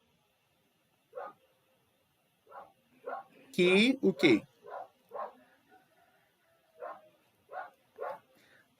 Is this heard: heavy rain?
no